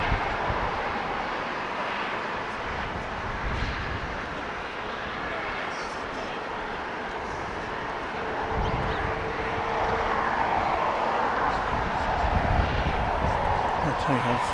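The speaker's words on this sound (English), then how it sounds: "this British Airways 777 going by the LAX landmarks" A British Airways Boeing 777 passing by at LAX gives a distant, steady jet rumble that swells slightly toward the end, with some talking over it.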